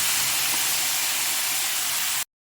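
Tomatoes sautéing in a pan for king fish masala: a loud, steady hiss of frying fills the scene, then cuts off abruptly near the end.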